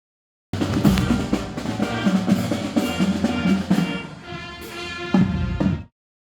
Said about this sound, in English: It's the local marching band coming down the street.